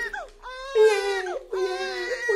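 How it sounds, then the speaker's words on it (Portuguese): A baby cries in short, wailing bursts, rising and falling with brief gaps between them, close and fairly loud. "Ela tá chorando."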